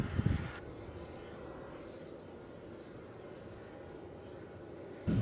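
An Airbus A330 in new Pride livery departs Melbourne Airport for Perth, a faint, distant, steady jet roar blended with wind noise, framed by brief louder bursts at the start and end.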